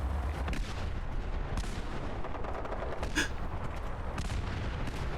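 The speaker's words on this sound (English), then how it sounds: "What are these explosions?" Explosions from a distant firefight in the video game Fallout 4 rumble on continuously, a dense run of booms and gunfire with one sharper crack near the middle, all of it alone with no talk.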